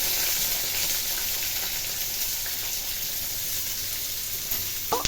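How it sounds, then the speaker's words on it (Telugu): Thinly sliced long onion pieces frying in hot oil for a Telugu onion chutney, a steady bright sizzle filling the whole stretch at close range, with a small clatter of stirring at the very end and no voices. "ఆయిల్ వేడైన తర్వాత సన్నగా పొడుగ్గా తరిగి పెట్టుకున్న ఉల్లిపాయ ముక్కలు వేసుకున్నాను"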